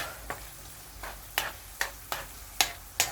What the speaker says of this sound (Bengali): সব কিছু মিশিয়ে ফেলছি এখন জাস্ট ভালো করে নাড়া দিতে হবে